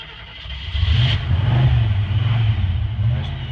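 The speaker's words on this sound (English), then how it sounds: "Nice loud motor comes to life there." A 1986 Jeep Grand Wagoneer's carbureted V8 turns over and fires up, settling into a loud, deep, rumbling idle nearby.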